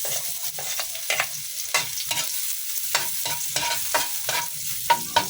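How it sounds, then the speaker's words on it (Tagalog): Chopped garlic sautéing in hot cooking oil for pancit, a steady sizzle broken by repeated scraping stirs of a utensil in the pan, close and clear with no talk. "mainit na yung ating mantika guys. Ay gigisahin na natin yung ating bawang."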